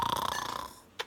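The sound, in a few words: storyteller imitating a bear snoring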